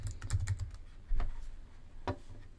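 Someone types on a computer keyboard at close range, a quick burst of soft key clicks followed by a few scattered single taps, with no talk.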